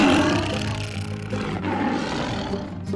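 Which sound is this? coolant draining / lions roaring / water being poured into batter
lions roaring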